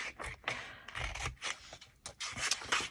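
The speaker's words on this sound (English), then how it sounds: "let's just attack this with my scissors" Scissors cutting paper for a junk journal, with close, quiet, repeated snips and rustling scrapes in an irregular rhythm over a few seconds, and no talking.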